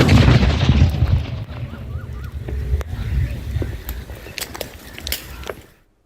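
A controlled army detonation of an unexploded live shell found in farm fields at Akhnoor sets off a loud, deep boom that rolls into a long rumbling tail before fading out.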